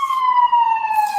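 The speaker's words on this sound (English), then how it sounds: "More party sirens." An emergency siren wails outside, a single loud steady tone that slides slightly lower over a brief moment, with nothing else audible around it.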